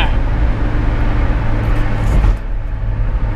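A small car with a badly damaged exhaust driving, a loud, rough low rumble that holds steady and close throughout, easing slightly near the end.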